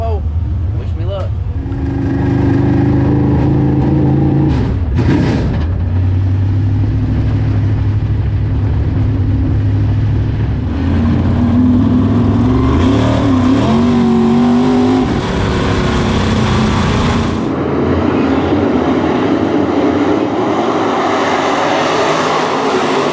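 Dirt track race cars roar together at the start of a 20-lap race at Southern Raceway's season opener, loud engine drone rising and shifting pitch throughout, with voices talking over the noise.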